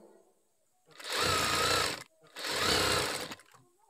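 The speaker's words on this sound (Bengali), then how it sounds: "এই ঠিক সেম ভাবে সেলাই দিয়ে নেব এবং 2টা করে সেলাই দিয়ে দেব" Sewing machine stitching a baby boy's half pant in two loud, close bursts of rapid needle clatter, each lasting about a second, separated by a short pause.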